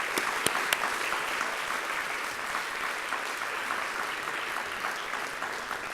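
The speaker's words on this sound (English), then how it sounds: "Can we give them a round of applause, please?" An arts and humanities awards audience claps steadily throughout, a continuous wash of many hands with a few sharper claps near the start.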